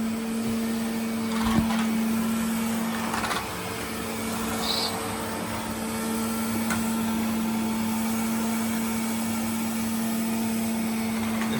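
An old Hoover vacuum cleaner runs steadily on a floor with a nice floor tool fitted, a loud continuous motor drone with a fixed hum, plus occasional knocks and a brief rattle of debris.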